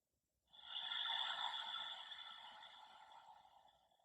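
A single long, audible breath taken during a stretching flow for runners: a soft rush of air that swells quickly and then slowly fades over several seconds, close and alone with no talking.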